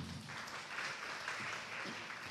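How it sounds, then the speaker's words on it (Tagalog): A church congregation applauds at a midweek worship service, the steady clapping sounding somewhat distant in a large room. "Mas malakas pong palakpak para sa Panginoon."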